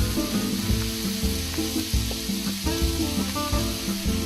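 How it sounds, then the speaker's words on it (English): Onions frying in olive oil in a pan make a continuous sizzle under a heavy layer of low, repeating background music. "Then in the same pan, add in a little bit more olive oil. Add in the onions,"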